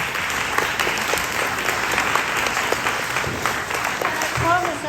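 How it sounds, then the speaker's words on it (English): A retirement gathering breaks into steady applause, a full wash of clapping from the crowd that carries on without a break, with faint voices and a brief tonal sound appearing near the end. "let's give them applause."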